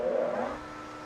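A form tool on a lathe cuts a brass-style hose barb down to size, a steady mid-pitched whirring cut that is louder at first and then settles into a softer, even drone.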